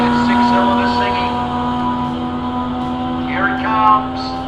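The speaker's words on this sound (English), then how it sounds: "You can hear that 6-cylinder singing." A six-cylinder drag racing car engine at a street-series drag strip shootout, a steady droning engine note that swells slightly toward the end, heard under a commentator's voice.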